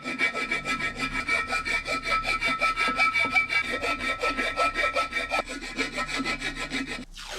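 Fine green sandpaper rubs by hand in fast, even back-and-forth strokes on a Miata restoration part, a close, loud rhythmic rasp that runs continuously before stopping abruptly at the end.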